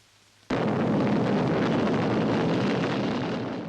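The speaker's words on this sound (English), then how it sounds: "Britain's first hydrogen bomb." Britain's first hydrogen bomb detonates off Christmas Island: a sudden, massive roar bursts out of near silence and holds as a dense, wind-like rumble, slowly easing.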